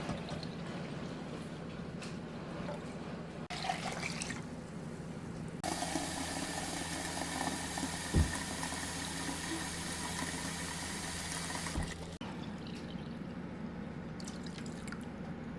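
Vinegar pours into a pot to make pickling brine for dilly beans, giving a sustained, hissing splash that swells for several seconds amid quieter drips and kitchen background, with no voices.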